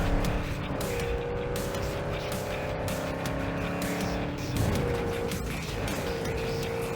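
A Quattro off-road car driven in Cyberpunk 2077 hums with a steady engine note that rises and eases with throttle, close and continuous with occasional rumbling.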